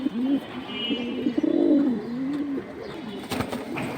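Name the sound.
pigeons cooing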